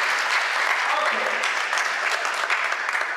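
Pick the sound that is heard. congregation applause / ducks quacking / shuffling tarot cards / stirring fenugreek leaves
congregation applause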